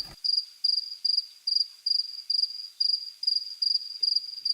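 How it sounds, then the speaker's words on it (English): A group of crickets chirping in a steady rhythm, each high, trilling pulse repeating about twice a second, clear and close against otherwise silent surroundings. "It was a group of crickets."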